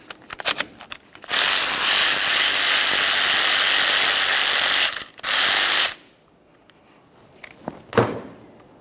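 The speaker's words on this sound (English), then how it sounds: "We're using a 14mm for our banjo bolt." Ratchet wrench loosening a 14mm banjo bolt on a front brake hose of a 2004-2008 Ford F-150, one long loud continuous whirring burst, a brief pause, a shorter burst, then quiet clinks.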